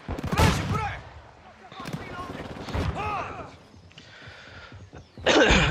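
Bursts of automatic gunfire in a Hardpoint shooter match, several sharp volleys close by, interspersed with in-game voice callouts and a loud final burst.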